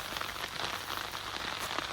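Rainwater rushes through a homestead overflow channel in a steady, dense wash of splashing and trickling water. The sound is broadband and unbroken, at moderate level, with no voices.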